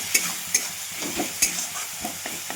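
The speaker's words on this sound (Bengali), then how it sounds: "এবার ভালো করে আবার কষে নেব।" Tomato masala with salt, turmeric and a little cumin powder being sautéed in a pan: a spatula scrapes and stirs in a steady rhythm over a soft sizzle, close and alone with no talking.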